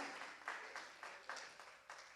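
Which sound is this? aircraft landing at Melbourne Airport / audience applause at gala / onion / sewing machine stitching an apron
audience applause at gala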